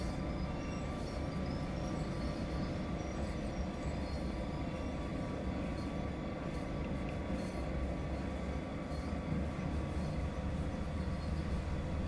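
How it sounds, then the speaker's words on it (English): A 50-car coal train running on Sand Patch Grade in Train Sim World 2 gives a loud, steady rumble of wheels and wagons with faint squeals on top, continuous throughout and free of talk. "There's the afternoon coal train all ready to go."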